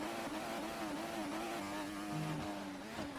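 Racing car engines in a classic-league sim race at the Bahrain GP drone steadily with a buzzing, slightly wavering pitch that shifts as the car changes gear, heard alone and fairly quiet.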